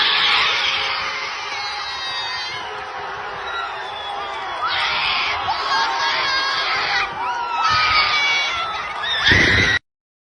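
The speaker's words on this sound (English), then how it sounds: "That's a birthday screech from them." A crowd of people lets out a loud, sustained high-pitched group screech as a birthday greeting, with rising and falling bursts of shrieking and cheering before it cuts off abruptly.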